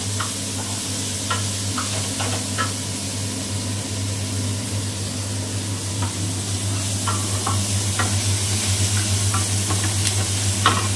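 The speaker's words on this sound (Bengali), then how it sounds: "জাস্ট একটু নাড়াচাড়া করবো।" Salted vegetables being stirred in a pan for chicken manchurian: a steady soft sizzle with scattered scraping clicks of the spoon against the pan, close and continuous, with a low hum underneath and no talk.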